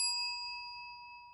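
A single bell-like ding with a long, steady ringing tail that slowly fades, sounding alone. It serves as an alert triggered by stream donations, standing in for a fire alarm bell.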